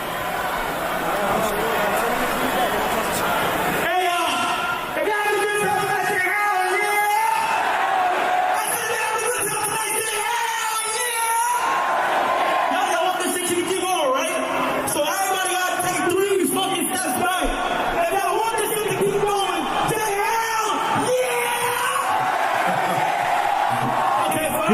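A roaring crowd at a concert at Rolling Loud, California, 2025, screams and cheers loudly and continuously, with shouted voices rising and falling across the whole stretch and an abrupt surge after a few seconds.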